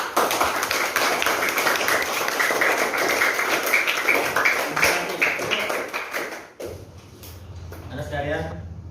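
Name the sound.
classroom applause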